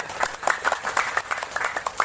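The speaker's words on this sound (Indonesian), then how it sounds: "Boleh tepuk tangan buat Anda semuanya gitu." An audience at a mosque gathering marking Nuzulul Quran claps in a short burst of close, fairly loud applause, with distinct individual claps in quick, uneven succession.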